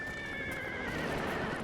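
A horse whinnies with a wavering, drawn-out neigh over a soft background rumble, fairly quiet and alone, in the video game Metal Gear Solid V: The Phantom Pain.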